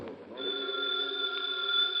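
A telephone bell rings steadily in a radio drama, a close, sustained electronic trill filling the moment with no voices over it.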